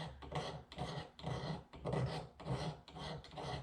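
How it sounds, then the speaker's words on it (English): Ferro rod being ground with a scraper to make shavings without sparking, a quiet rasping scrape repeated in steady strokes, close up and alone. "If I take my ferro rod and I just grind on it like this without sparking, I'm actually creating a pile of those little shavings off the ferro rod."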